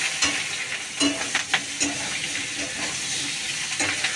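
Green chillies sizzle in hot oil in a home kitchen pan before greens go in. A steady frying hiss is broken by repeated scraping stirs of the spatula, with no talking.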